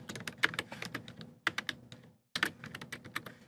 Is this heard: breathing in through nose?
no